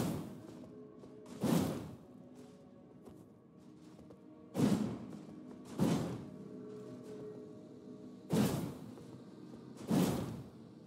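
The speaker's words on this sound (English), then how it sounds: "This is the heavy and charged heavy attack of the Serpent Hunter." Heavy and charged heavy attacks with the Serpent Hunter great spear in Elden Ring: five big whooshing swings ending in thuds, spaced a few seconds apart, loud and close with quieter game ambience between.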